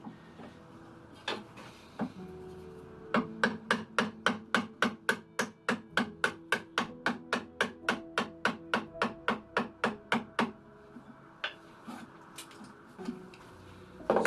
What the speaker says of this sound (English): You want to tap it with the hammer and then slow it right down when you get there